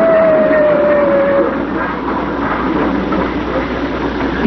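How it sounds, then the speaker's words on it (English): A train rolls past, a steady rumbling roar with a tone that drops in pitch as it goes by, fairly loud and continuous with faint clatter underneath. "He wondered why the sound suddenly changed as the train went by."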